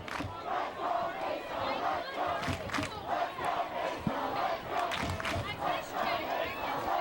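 A packed home crowd roars and chants at Jim Scott Stadium during a high school football rivalry game between Estancia and Costa Mesa, a continuous dense wall of cheering voices from the stands.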